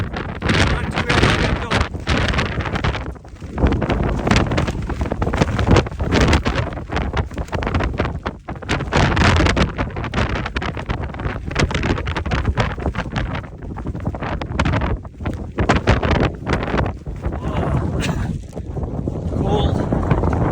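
Cold, wet wind gusts hard across the microphone in the Bighorn Mountains, a loud continuous roar with buffeting bursts and brief dips that lasts throughout.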